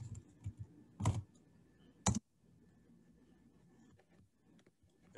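Typing on a computer keyboard, a few quiet scattered keystrokes with two louder sharp clicks, close and alone without talk.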